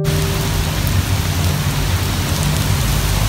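Heavy rain pours down steadily and loudly during the rainy season, a dense, unbroken hiss with no voices.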